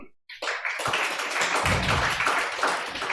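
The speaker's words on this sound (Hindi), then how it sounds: "एक बार ताली बजाओ सारे बच्चों" A group of children in an online class clap their hands together in a dense, continuous patter that starts after a brief silence and keeps going steadily.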